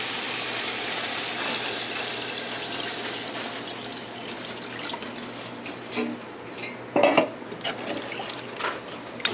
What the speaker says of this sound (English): so you're gonna add the water